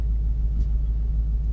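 A Ford Mustang's engine rumbles low and steady while the car sits in first gear without throttle, a deep, close, continuous drone with no talk over it.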